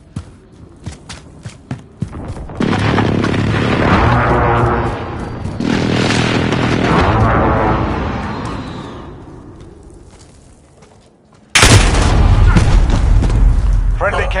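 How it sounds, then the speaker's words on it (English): Precision airstrike explosions in a military shooter video game, a series of heavy rumbling booms rolling on for several seconds, then a sudden loud blast near the end, mixed with scattered game sounds. "Be advised, friendly precision airstrike inbound."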